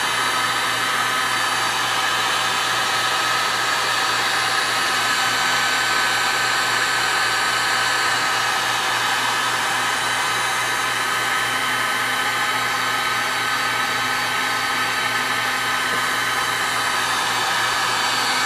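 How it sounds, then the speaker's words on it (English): A heat gun blasting hot air onto an LED bulb gives a constant, loud, even blowing hiss with a steady motor hum beneath, unbroken for the whole stretch and with no talking. "I don't think the heat gun is going to do too much more than that."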